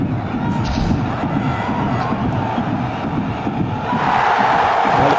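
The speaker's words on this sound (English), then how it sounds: "Well, the crowd come to life." Crowd at a cricket stadium during the World Cup final between India and Sri Lanka, a dense continuous roar of cheering and shouting from a large crowd, swelling slightly toward the end.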